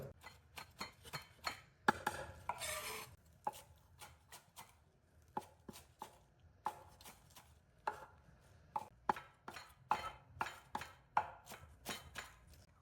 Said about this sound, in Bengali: আর একটা লেবু নিচ্ছি লেবুটা কেটে সাইডে রাখলাম